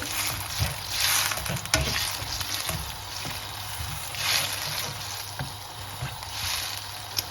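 Mussels being stirred in a pan with wine: steady wet sizzle and sloshing under repeated scraping strokes of a utensil, close and moderately loud, with no talk.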